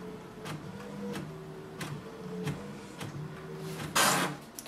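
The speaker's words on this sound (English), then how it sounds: "So here we can see it has done the printing." An HP ENVY Inspire 7924e printer prints a page with quiet, repeated mechanical passes and soft whirring strokes, ending in a brief louder burst as the page feeds out.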